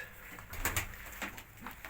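Pigeons in a loft coo softly a few times, low murmuring calls rising over a quiet background with faint rustling.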